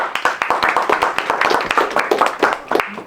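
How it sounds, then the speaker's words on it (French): Brisk clapping from an audience at a stage event as a participant is invited up, close and fairly dense with sharp individual claps. "Applaudis."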